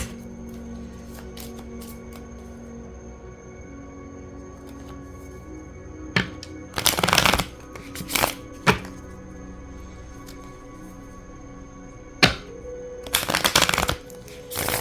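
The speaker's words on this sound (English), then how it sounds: "I'm gonna shuffle. Bear with me. You can also skip this part if you're not keen on the sound of the cards." Tarot cards are shuffled in a few quick, close riffling bursts separated by quiet pauses and soft single taps against a low, steady room hum.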